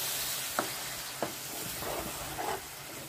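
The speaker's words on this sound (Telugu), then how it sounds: "బాగా వేయించుకుందాం." Onion paste and green chillies frying in a pan, a continuous close sizzle with a few light knocks and scrapes of stirring.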